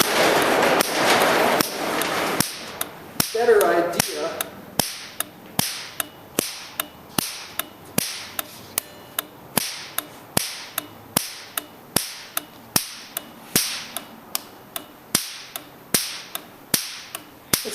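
A plasma spark across a spark plug gap holding a squirt of water snaps in a steady train of sharp, evenly spaced cracks, close and loud, after a brief hissing burst at the start.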